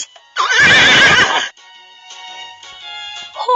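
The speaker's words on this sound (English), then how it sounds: "Horse." Horse neighing from a kids' animal puzzle app: one loud shrill whinny lasting about a second, then soft clip-clop hoofbeats and a brief chime, with a short vocal note at the very end.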